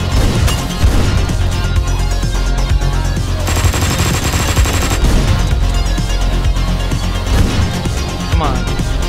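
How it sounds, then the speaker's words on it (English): Gunfire in the video game Hotline Miami 2 plays as loud, continuous rapid shots and bursts over a busy game soundtrack, with a short smash or crash partway through. "What are you shooting at?"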